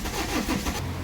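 A BMW 320d diesel with weak compression cranks briefly while hooked to a compression tester, giving a close, rough, continuous churn that does not catch.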